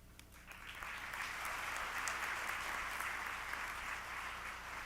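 Sustained applause from a commencement audience at a college autumn graduation ceremony, a steady dense wash of many hands clapping that swells in after a brief quieter start and holds evenly, moderately distant.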